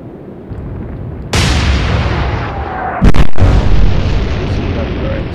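Naval guns firing in the Atlantic Fleet game: two loud broadband blasts, a sudden boom at mid-clip and a heavier double report near the end, over continuous battle rumble and sea noise, with no voices.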